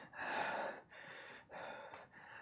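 A tabletop role-playing player mimics a character's heavy breathing with a voice, three breathy rasping exhales separated by short pauses, close and fairly quiet.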